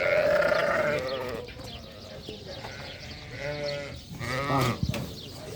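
Sheep bleat repeatedly at close range, several wavering calls overlapping one another, while someone talks among the flock.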